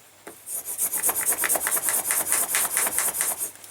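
A leather belt edge is burnished by hand with a burnishing tool, a fast, regular back-and-forth rubbing rasp heard up close and fairly loud, about a dozen quick strokes.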